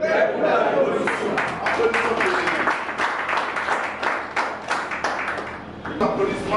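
An audience applauds at a political party training seminar, steady dense clapping filling the room, with voices and scattered chatter mixed in throughout.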